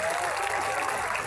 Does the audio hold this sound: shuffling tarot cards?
no